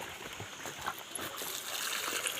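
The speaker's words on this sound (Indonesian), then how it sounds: "kocor sekalian kita siram sebenarnya, tapi kita gunakan pupuk supaya" Liquid fertilizer is poured over young grafted cocoa plants, giving a soft, uneven trickle and splatter that builds slightly toward the end, fairly close and quiet.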